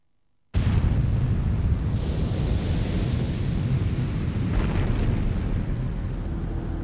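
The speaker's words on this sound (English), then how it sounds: "Time and space began with a big bang" A huge explosion for the Big Bang at the birth of the universe, bursting in suddenly after a brief silence and then roaring on as a sustained, loud rumbling blast.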